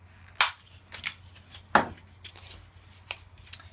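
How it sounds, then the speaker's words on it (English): A handheld corner punch rounds the corners of folded paper for a mini album, sharp crisp clicks and snaps coming one at a time at uneven intervals, close and distinct. "you're going to get your corner punch and round those corners"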